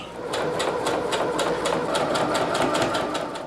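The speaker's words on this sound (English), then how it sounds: "Now I'm sewing on these extra 2-inch panels." Sewing machine stitching extra panels for a Sea-Doo seat cover, a fast, even rhythmic clatter of needle strokes running steadily for a few seconds, close and alone.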